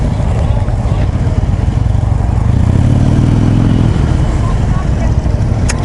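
Harley-Davidson 2014 Low Rider motorcycle engine pulling under acceleration, a loud steady low rumble that swells in the middle with a rising harmonic drone, heard close with constant wind roar.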